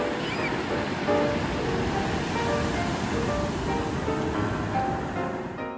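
Ocean waves lapping at the shoreline of a beach around ankle depth, a steady close wash of surf with soft wind noise and no talking.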